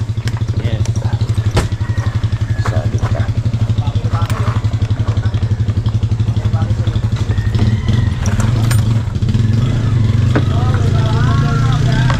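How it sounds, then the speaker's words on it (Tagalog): A motorcycle engine idles and revs loud and close with a steady throb, while people chat casually over it and occasional clatter and thumps come through. "Palabas ka muna ang motor."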